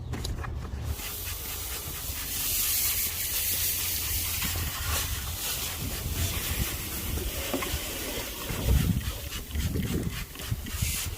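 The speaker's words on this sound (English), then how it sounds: "It's only going to be a quick wash, then we'll go over it again." Brake dust being washed and scrubbed off an Aprilia RSV SP motorcycle wheel, a steady wet rubbing and hissing spray that runs continuously and fairly close throughout, with brief louder scrubbing bursts near the end.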